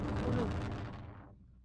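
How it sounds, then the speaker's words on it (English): A single heavy boom from an explosion in the video game Brick Rigs that rumbles and fades away over about a second, deep and fairly loud. "I just heard an explosion"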